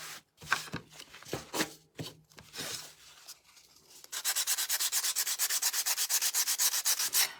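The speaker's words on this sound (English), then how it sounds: "now I'm going to go around all the edges and I'm just going to sand them." Sandpaper rubs along the edges of a painted wooden gingerbread craft piece, first in a few scattered scrapes, then settling into a fast, even back-and-forth rasp that is close and clear with no voices.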